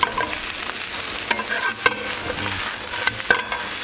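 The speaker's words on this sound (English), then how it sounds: "it literally only takes about a minute to wilt down spinach" Fresh spinach wilts and fries in oil in a pan, with steady sizzling broken by a few sharp clatters of stirring and tossing, close and fairly loud with no talking.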